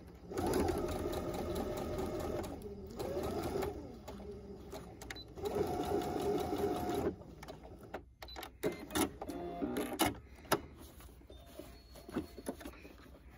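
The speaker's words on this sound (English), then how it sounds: "I'm going to stitch to that line and make sure that you backstitch because you want to reinforce" A sewing machine stitches a seam for a fabric face mask, running in steady close bursts, stopping, and starting again. Short reversing runs reinforce the seam, and the stitching ends in scattered clicks and handling taps.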